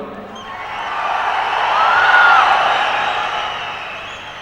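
Crowd cheering and applause at a Tamil film event, a dense roar that builds to a peak midway with a shrill whistle or whoop on top, then eases off.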